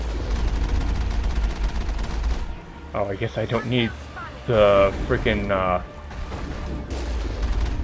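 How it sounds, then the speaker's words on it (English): Machine gun and cannon fire in the Mass Effect video game form dense, continuous gunfire and booms throughout, dropping out briefly mid-clip while a person talks over the action. "cannon takes him out one shot, but machine gun still works pretty much as effective"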